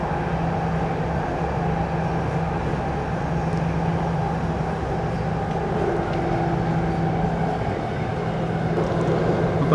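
Interior of a Namo Bharat RRTS train in Delhi running at about 130 km/h, heard as a steady, loud rumble with a constant low hum that continues evenly throughout, with no talking.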